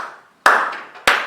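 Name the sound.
people clapping at a natural pace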